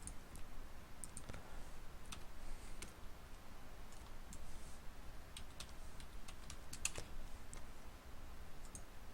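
Keys on a computer keyboard clatter in uneven bursts of quiet clicks, close but faint over a low background hiss, with no talking.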